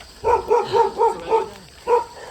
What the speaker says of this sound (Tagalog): May humahabol pang aso.